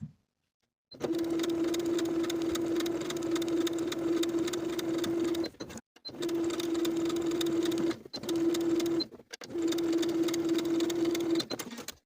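A sewing machine understitches a dress pocket to the seam allowance close to the edge, running steadily in four long bursts with brief pauses between them and no voices.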